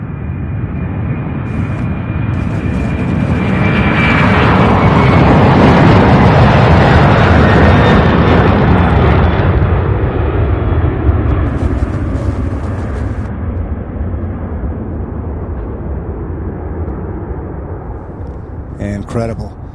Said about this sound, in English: So that was the first batch of takeoffs.